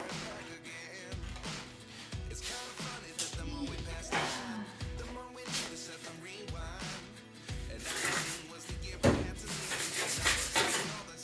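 Fine, smooth sandpaper works over an old pellet stove in close, rhythmic rubbing strokes about once a second, some scraping harder than others, with no talking.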